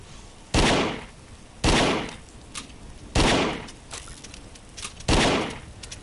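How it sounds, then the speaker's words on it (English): Gunfire from the PSVR wave-shooter game The Walker: four loud, sharp shots spaced about a second apart, each with a short decaying tail, plus a few fainter clicks between them and no talking. "I'm just shooting them in the face."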